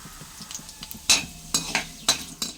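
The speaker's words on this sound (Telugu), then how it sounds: "ధనియాలు అయితే ఫ్రై అయిపోయినాయండి." Coriander seeds frying in oil in a pan for gongura roti pachadi, stirred with a spoon that gives four or five sharp scraping clinks over a faint background sizzle, close by and without any voices.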